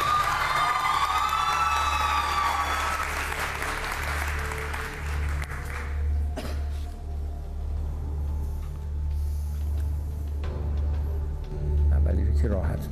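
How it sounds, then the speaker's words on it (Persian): A game-show studio audience at a pantomime competition bursts into loud applause and cheering, strong at first and then thinning into scattered clapping and murmur over a low steady hum. "تشویقشون کنیم"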